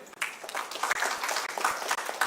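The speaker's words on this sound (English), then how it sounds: "May we have a round of applause for him." Audience applause for a guest speaker at an entrepreneurship awareness programme, a steady wash of many hands clapping that carries on for a couple of seconds at moderate level.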